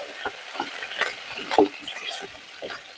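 Green chillies and curry leaves being stirred in hot coconut oil after mustard seeds pop, giving a soft sizzle with scattered crackles and the scrape of stirring throughout.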